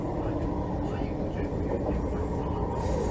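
Loud, steady roar of a train running on curved track, wheel corrugation giving a rough, broadband rumble that stays dense and continuous throughout without a break.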